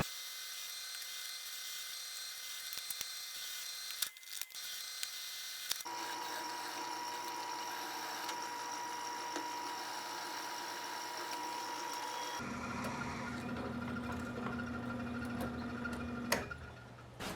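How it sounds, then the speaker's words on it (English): A drill press bores a hole in a steel knife tang, a steady whining motor hum that shifts pitch as the bit engages, with faint ticking contact noises, moderately quiet and alone. "And we're also going to drill a hole in the tang"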